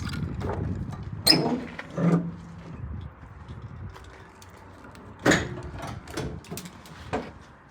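The rear swing doors of a 2022 GMC Savana cargo van clunk and latch several times with metallic thuds and rattles, a few sharp bangs spread across the clip with quieter handling sounds between.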